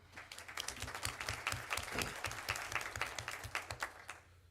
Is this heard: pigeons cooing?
no